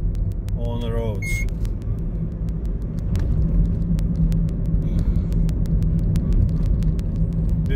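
Steady rumble of cars driving on a quiet Sydney road and bridge during the April 2020 lockdown, heard from inside a moving vehicle with a person talking over the traffic.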